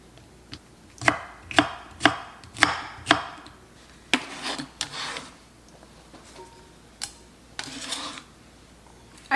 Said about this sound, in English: I'm going to cut this into cubes